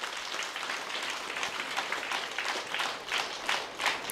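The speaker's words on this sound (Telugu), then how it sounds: "మేడంకి మనందరం ఒకసారి గట్టిగా క్లాప్ చేద్దాం." An audience at a Pyramid meditation celebration event gives sustained applause, a dense steady clatter of many hands clapping at moderate distance with slight swells, with no voices over it.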